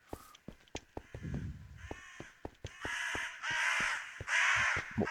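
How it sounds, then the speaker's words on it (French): Crows caw repeatedly in a Minecraft fantasy modpack, a series of harsh calls layered over sharp periodic clicks, with the cawing growing louder and denser toward the end; no one speaks. "c'est pas mieux finalement les corbeaux là"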